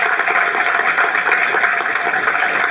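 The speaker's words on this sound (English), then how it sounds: "Shall we give him a big round of applause?" Audience applause at an American college farewell speech, a dense, even wash of many hands clapping, steady and fairly loud from start to finish with no voices on top.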